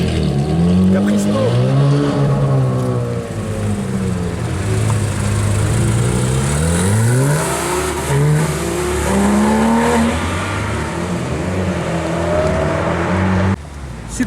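Turbocharged supercars accelerating past at a Cars & Coffee meet in Luxembourg, with loud sweeping engine pitch rising and falling as several cars rev and pull away over a continuous crowd backdrop, ending with an abrupt drop.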